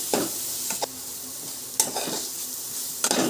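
Masala spices fry with a steady sizzle in a pan of green pea curry while a spoon scrapes and stirs in a few sharp, intermittent strokes close by.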